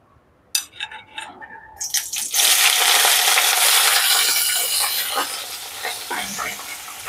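Green chillies cut into pieces drop into a teaspoon of hot oil in a pan, setting off a loud, sustained spitting sizzle after a few sharp clinks, the frying staying dense and steady with small crackles.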